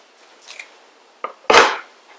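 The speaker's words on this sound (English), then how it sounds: "I'm going to go ahead and cut away a little bit of the excess." Scissors snip away excess foil transfer sheet in a crafting session, giving a few short, crisp cuts with one louder final snip, close and alone in a quiet room.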